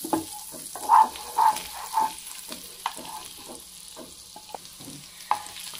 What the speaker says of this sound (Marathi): गार्लिक आपण छान रोस्ट करून घेऊ।